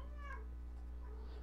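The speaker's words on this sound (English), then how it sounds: "So if you hear them meowing or purring or doing noises" A pet cat meowing indoors, two soft, faint meows close by over a steady low hum, with no one talking.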